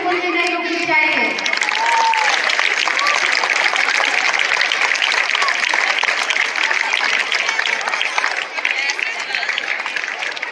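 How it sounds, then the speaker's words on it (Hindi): Schoolchildren at an annual school function clap steadily and loudly for about ten seconds in one unbroken wash of applause, with a short stretch of speech at the very beginning. "हमारे स्कूल के बच्चों की तालियां तो बिल्कुल भी नहीं रुकनी चाहिए।"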